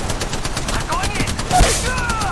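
Sustained rapid gunfire in the battle-royale game Apex Legends, a loud continuous volley of shots with whining bullet streaks and a heavier impact near the middle, with no break in the firing.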